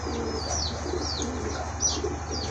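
Pigeons of a large breed coo repeatedly in a steady, close rhythm, with a few faint chirps among them and a low constant hum underneath.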